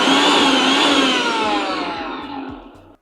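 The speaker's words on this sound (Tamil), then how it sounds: "போட்டுட்டு இதை வந்து மிக்சரில் அரைப்போம்." A kitchen mixer grinder grinds coconut, cumin and green chilli for a Kerala mango pulissery, a loud, steady whirring motor with a brief pulsing rhythm, its tone shifting slightly before winding down at the end.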